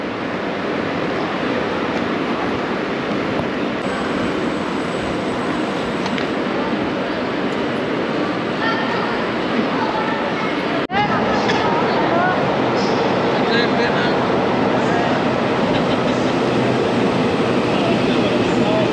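A train at a station in Taiwan makes a loud, continuous rumbling roar that holds steady and shifts slightly in character partway through, with voices mixed in.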